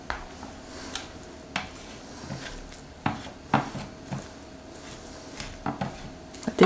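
Almond cream being mixed with vanilla in a bowl for a vegan galette des rois, heard as soft scraping and intermittent clinks of a utensil against the bowl, quiet and close with brief sharper knocks.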